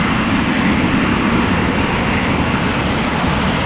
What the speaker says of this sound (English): It's a 767 from TUI coming this way.